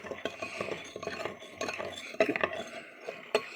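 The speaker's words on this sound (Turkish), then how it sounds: "Boraksımı karıştırıyorum." Spoon stirring a borax mixture in a container, with quiet irregular scrapes and light clinks of metal against the sides in short bursts, close by and faint, with no voices.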